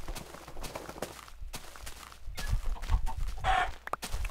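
Minecraft chickens cluck briefly in a hardcore survival game, with one short burst near the end over steady in-game footsteps and rustling, close and moderately loud, without any talking.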